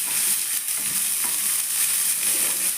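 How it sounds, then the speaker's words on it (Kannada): Onions fry in oil in a pan for masale rotti, giving a close, steady hissing sizzle with soft stirring scrapes and no talking. "ಈಗ ಈರುಳ್ಳಿ ಹಾಕ್ತಾಯಿದ್ದೀನಿ."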